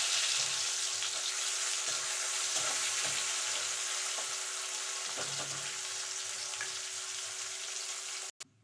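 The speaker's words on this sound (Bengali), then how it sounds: "এবার পেঁয়াজটাকে ভাজা ভাজা করে নেবো।" Chopped medium-sized onions fry in a pan while a Bengali potato-cauliflower duck egg curry is cooked, giving a steady close sizzle with faint stirring scrapes that ends abruptly.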